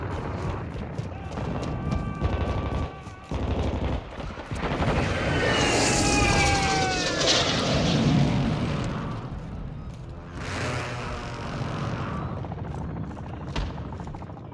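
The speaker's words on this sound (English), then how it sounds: "Enemy precision airstrike. Find cover." Enemy precision airstrike in Call of Duty Modern Warfare 2 Invasion mode on Sarrif Bay: a continuous roar of jets and blasts with scattered gunfire and rumbling explosions, loud and dense, with game announcer voices in the mix.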